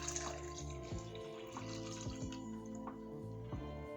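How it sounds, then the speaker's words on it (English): Fresh juice pours into a drinking glass, a quiet trickling liquid stream with small drips and splashes, close and gentle, with no voices. "I'm gonna go ahead and pour this beautiful juice"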